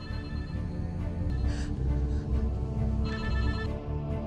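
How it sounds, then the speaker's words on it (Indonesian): A mobile phone taped to the wall of a house rings with a steady electronic tone over a dense, loud low-pitched background throughout. "Rain mendapati sebuah ponsel berdering yang tertempel di dinding rumah."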